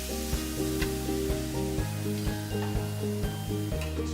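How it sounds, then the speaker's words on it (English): Steaks sizzle on a preheated multi-grill, a steady close hiss running under prominent background music with shifting chords, with no talking. "You'll hear that sizzle. It's nice and preheated."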